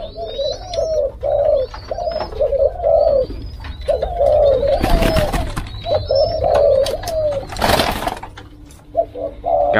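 Spotted doves in a breeding cage give repeated soft cooing phrases close by over a steady hum, interrupted twice by brief bursts of rustling or fluttering noise.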